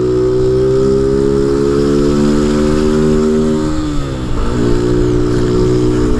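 Motorcycle with a cheap tin exhaust drones loud and close with a raspy, buzzing engine note that holds steady, dips briefly as the throttle shifts, then picks back up, with no talking over it.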